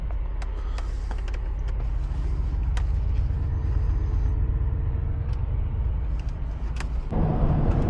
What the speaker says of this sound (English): Bring that 4-liter V8 to life and we'll get rolling.